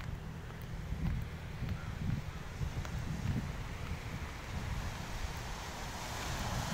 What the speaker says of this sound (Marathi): लाटांवर लाटा, लाटांवर लाटा आणि जोराने लाटा येत आहेत.